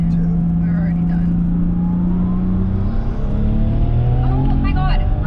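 BMW E30 with a manual gearbox driving and shifting into second gear, its engine droning steadily inside the cabin with pitch rising and settling, while people talk over it.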